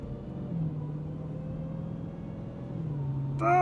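A Dodge Demon 170 engine rumbles at low revs while driving in the rain, holding a steady deep drone that swells slightly as throttle is applied near the end.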